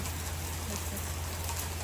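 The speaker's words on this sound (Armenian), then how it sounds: "նորից էլի անձրև" Steady rain falls continuously, a dense even hiss with a low hum underneath, no voices.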